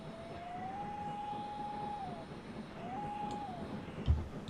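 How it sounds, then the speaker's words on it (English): Train simulator video game whistle heard from the cab, a quilled tone sliding up, holding steady for about a second, then bending down, sounded twice over a steady rumble of the locomotive, with a brief thump near the end. "you've got the variation in pitch there"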